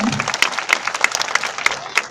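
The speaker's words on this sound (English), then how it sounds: "Everyone give him a big round of applause." An audience claps through a round of applause at a sea lion show, a dense patter of hands with louder bursts about every third of a second, the clapping carrying on alone without talk.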